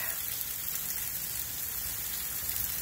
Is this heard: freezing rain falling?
yes